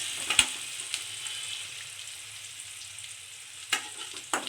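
Rice being stirred and mixed with onion and curry leaves in a hot pan, a steady soft sizzle of frying with a few sharp scraping clicks of the spoon, close and fairly quiet, no talking.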